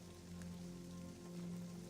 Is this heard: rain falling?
yes